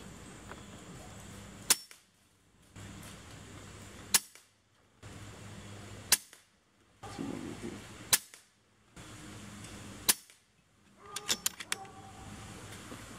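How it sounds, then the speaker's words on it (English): An air gun on its maximum power setting fires JSB Hades pellets through a chronograph: five loud, sharp cracks spaced about two seconds apart, each followed by mechanical cocking clicks and creaks. "I'm going to go ahead and shoot through the chronograph and let y'all see exactly what the difference is"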